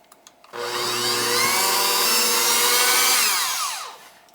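An electric hand mixer whirs steadily for about three seconds as it beats gingerbread bar frosting in a bowl, starting and stopping abruptly, loud and close with no talk.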